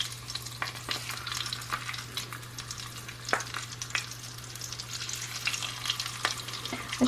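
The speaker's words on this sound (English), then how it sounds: "So adding some olive oil. Let's drop these fishes in a pan." Rainbow trout frying in olive oil in a pan: a steady close crackle and sizzle with frequent sharp spits and pops, a low constant hum underneath, no voices.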